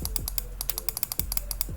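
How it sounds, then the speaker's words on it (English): Rapid, close computer mouse and keyboard clicks tap out a quick uneven rhythm while signing up on a game streaming service, over a low background hum. "You just have to keep clicking."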